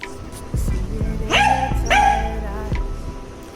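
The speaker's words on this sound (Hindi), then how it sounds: "ये बहुत भौंकता है" A pet dog barks indoors in two loud, close, harmonic barks, with soft knocks and household noise around them.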